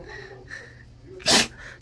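A dog recovering from major surgery, on its second day in the hospital, lets out one sharp, loud sneeze near the end, standing clearly above a quiet background with faint voices.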